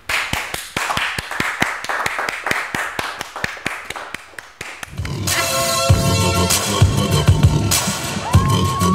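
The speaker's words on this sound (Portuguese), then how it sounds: "Uma salva de palmas para Fahad Al-Butairi." Audience applause at a comedy show, starting as sharp distinct claps, then swelling into a loud roar of crowd cheering and whooping as a comedian takes the stage.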